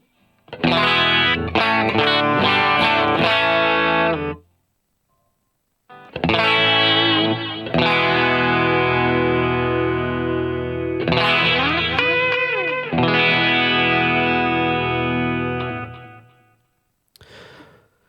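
An electric guitar plays through a Line 6 Pod Go patch with a light crunch distortion and the delay switched off. Sustained distorted chords and bends ring loud and close in phrases with a short pause early on, then fade at the end.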